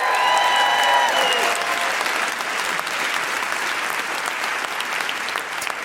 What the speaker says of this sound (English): Can I have a big round of applause for Lizzie Wharton, who's our sign language interpreter this evening?